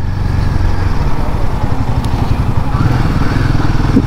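A Royal Enfield Himalayan 450 motorcycle rides along with a steady, smooth engine drone and continuous road and wind rumble, close and fairly loud throughout.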